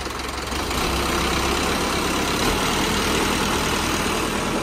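A 5911 tractor engine runs steadily in low first gear, a loud, continuous broadband drone with a low rumble that holds level throughout, with no talking.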